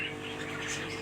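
King pigeons calling inside a loft, with faint, soft coos and chirps set low against a quiet background hum, no voices.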